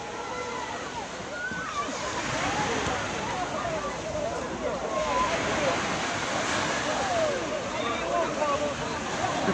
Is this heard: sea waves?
yes